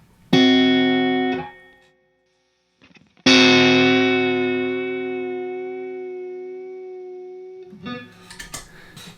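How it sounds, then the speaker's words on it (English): Sustained electric guitar notes through a JHS Artificial Blonde Leslie-style modulation pedal with a swirling, rotating-speaker wobble, a short chord, a pause, then a long ringing chord fading slowly before more playing. "you can get that kind of subtle, kind of whooshiness of a Leslie sound"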